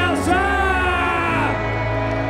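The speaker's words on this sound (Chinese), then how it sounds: "掌声尖叫" A crowd at a popping dance battle yells and whoops, sustained loud voices rising together under tonal music.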